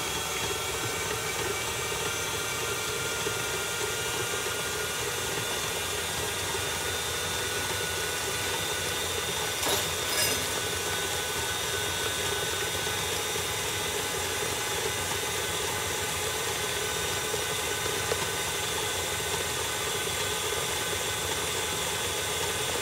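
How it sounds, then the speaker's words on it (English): A stand mixer beats royal icing at high speed, giving a loud, steady whir that holds evenly throughout with no talking. "Now you're gonna put it back to mix on a high speed for about 7 minutes"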